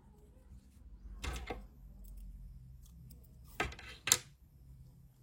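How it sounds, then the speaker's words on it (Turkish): Scissors snip white yarn during crochet work, two short close cuts about two seconds apart, each a quick metallic snap over a quiet room, with no talking. "Beyaz renkli ipliği kesiyorum"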